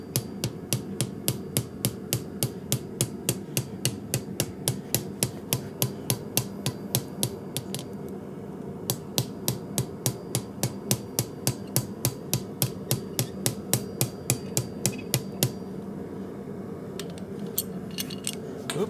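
Steady, rapid hammer blows ring out against the end of a steel pipe being reduced to fit a 3/4 inch pipe for a forge burner, the metallic strikes repeating evenly and loud throughout with no talking.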